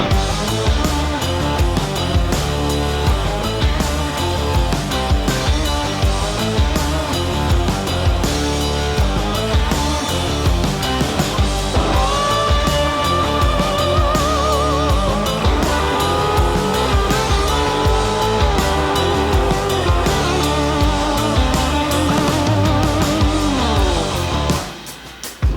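A 1967 Triumph Mountain Cub motorcycle is ridden on streets, its engine droning loudly and continuously with rising and falling revs through gear changes, no talk.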